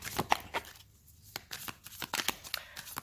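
Tarot cards are handled and laid down one after another for a five-card spread, giving a series of crisp papery slaps and flicks with quiet gaps between them, close and fairly light.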